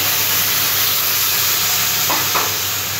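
Water splashed into hot masala of cumin powder and Kashmiri chilli powder bursts into a loud, steady sizzle and steam hiss in a frying pan, with faint stirring scrapes near the end.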